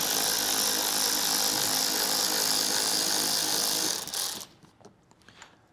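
A ratchet with a 7mm socket works a fastener on a 2023 Chevrolet Traverse during trailer hitch installation, a dense, buzzing whir running steadily up close before cutting off abruptly, followed by a few faint handling clicks.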